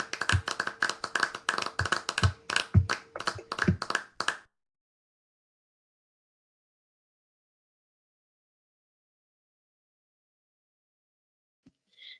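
Members of an online audience clap during a student psychology presentation about cyberbullying, giving a few seconds of quick, close, uneven hand claps that stop abruptly, followed by near silence.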